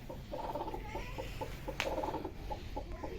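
A domestic desi hen, broody among freshly hatched chicks, gives a steady run of soft, close clucks in short rhythmic bursts over quiet background noise.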